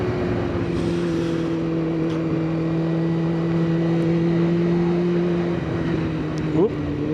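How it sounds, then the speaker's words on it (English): Kawasaki ZX9R motorcycle engine running with a steady droning tone during an urban ride, then a brief rev near the end, heard close under a voice talking. "I want to give you like some more flipping engine noises and them things there"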